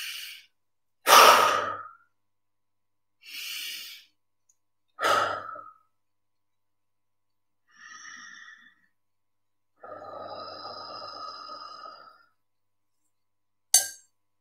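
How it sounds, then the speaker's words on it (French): Deep breaths during a guided meditation session: slow, breathy inhales and long sighing exhales alternate with silent gaps, close to the microphone and clearly audible, with no speech. "On va prendre 3 grandes respirations."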